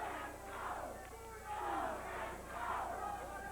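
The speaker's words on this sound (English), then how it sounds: "Crowd is chanting with a "Go, Chris, go."" A wrestling arena crowd in 1989 chants in a rhythmic three-beat pattern, rising and falling in waves, loud and reverberant with many voices together.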